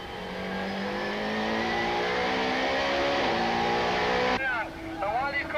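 Onboard a Super Touring race car, the engine drones loudly and rises in pitch through the gears, then cuts sharply to a lower tone with quick revving blips, under commentary.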